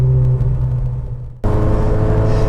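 A Ferrari 360 sports car driving on an open road outside the city, with a steady close engine drone and low rumble that cuts out briefly, then returns louder and fuller for the rest of the stretch.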